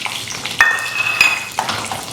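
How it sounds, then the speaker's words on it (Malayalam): Nuts and mustard seeds frying in ghee in a pan, a close steady sizzle with a couple of sharp utensil clinks and stirring scrapes. "അപ്പം നട്ട്സ് നെയ്ക്കകത്തോട്ട് ഇട്ട് കടുക് വറുക്കാൻ പോകും"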